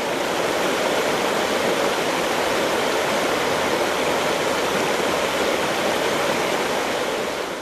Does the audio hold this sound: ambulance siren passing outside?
no